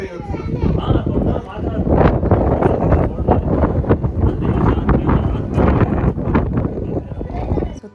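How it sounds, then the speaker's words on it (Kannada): Cold wind gusts outdoors, buffeting the microphone with loud, uneven rumbling bursts, while someone talks over it throughout. "ತಣ್ಣ ಗಾಳಿ ಬೀಸ್ತಿದೆ."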